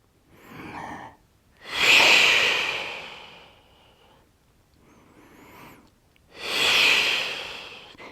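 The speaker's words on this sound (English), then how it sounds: "I will raise my leg against gravity whilst inhaling and let go whilst exhaling" Deep breaths during a lying hip and leg stretch: a slow inhale and exhale pair, a pause, then another inhale and exhale, loud and close with no talking.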